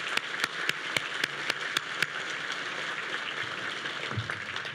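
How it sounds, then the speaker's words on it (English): Audience applause at a State of the City event, a steady wash of clapping from a crowd heard at moderate distance, with a few sharper individual claps standing out near the start. "Let's give them a round of applause."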